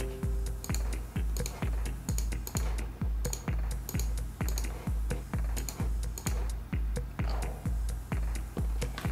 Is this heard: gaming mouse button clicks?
yes